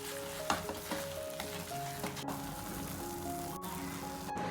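Semiya khichdi being stirred in a hot pan, a steady sizzle and fry under repeated scraping strokes of a spoon against the metal, close and continuous with a few sharper clicks.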